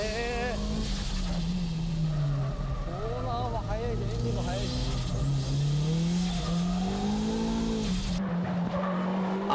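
A 300-plus horsepower Nissan Silvia tuned by K-Office is driven hard on a mountain pass, its engine droning steadily and loudly with pitch rising and falling through the gears, while someone talks over it throughout.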